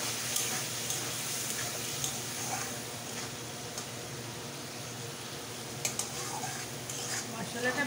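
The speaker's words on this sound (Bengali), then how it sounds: "মশলাটা কষিয়ে নেব।" Spice paste with a little water being sautéed and stirred in a pan for pointed gourd curry, soft sizzling with occasional utensil scrapes and clinks.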